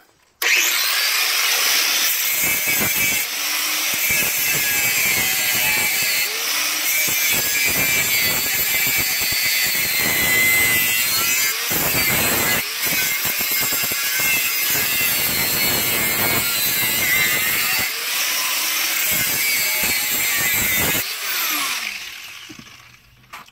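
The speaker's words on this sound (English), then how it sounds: "Now use cutoff wheel" A cutoff wheel grinds through a ball joint on a Dodge Ram, a loud, steady, high-pitched whine with a continuous harsh shriek broken by brief pauses and changes of pressure, close up and alone.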